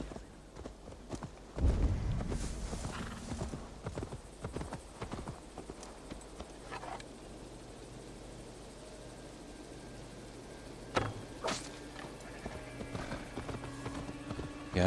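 Horse hooves clip-clop in Assassin's Creed Valhalla, with rhythmic hoofbeats at moderate distance, a louder burst early on and scattered sharp impacts later over a faint background.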